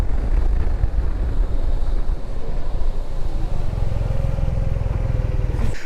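Yamaha T-Max 560 scooter from 2020 in matte grey, ridden at speed, with a steady engine drone under heavy continuous wind rush for the whole stretch.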